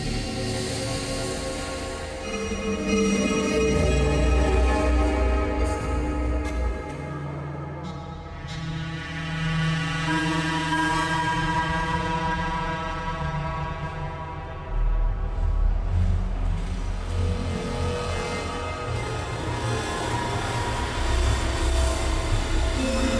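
A dark abstract horror soundscape swells and fades in slow waves, built from reverb-drenched tones shaped by a notch filter and delay, with droning low rumble and shifting hollow harmonics.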